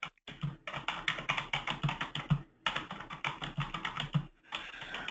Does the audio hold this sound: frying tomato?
no